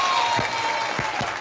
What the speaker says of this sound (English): One more round of applause for Mrs. Sample.